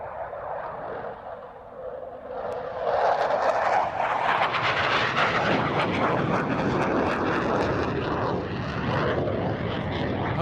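A Hawker Hunter jet at the RAF Waddington airshow passes as a loud, broad jet roar that builds after a couple of seconds and stays strong, with a sweeping quality as it moves past.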